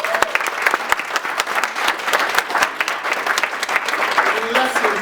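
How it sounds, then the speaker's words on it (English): An audience in a hall breaks into applause, loud, dense clapping with sharp individual claps standing out, sustained for several seconds with faint voices mixed in. "A round of applause for him."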